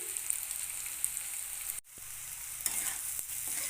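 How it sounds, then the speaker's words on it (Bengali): Potato and cauliflower pieces fry in a pan over a medium gas flame, a steady close hiss of sizzling oil with a brief dropout midway and faint stirring clicks toward the end; no one talks. "আলু ফুলকপি প্রায় ভাজা হয়ে গেছে আর অল্প কিছুক্ষণ ভাজতে হবে আর একটু লাল করে ভাজার জন্য"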